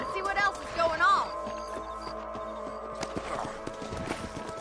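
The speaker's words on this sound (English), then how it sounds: "Let's get back on the horses and see what else is going on." Horses clip-clop in a video game, a close, rhythmic trot of hooves with a brief whinny, while in-game voices talk over parts of it and music-like tones hum beneath.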